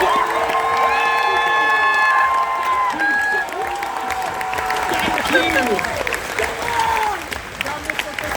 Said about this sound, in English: Let me hear you make some noise for your champion